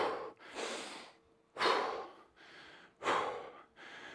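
Heavy, ragged breathing after a kettlebell circuit: three loud, close gasping exhales about 1.5 seconds apart, each followed by a quieter inhale, with no talking.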